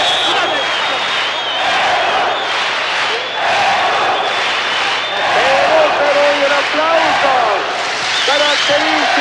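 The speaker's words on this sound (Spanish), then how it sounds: "Aplausos característico en todas las tribunas alentando a Perú." Stands full of fans at the 1988 Seoul Olympic volleyball final applaud and cheer for Peru, a broad roaring crowd wash with rising shouts, while a commentator talks over it.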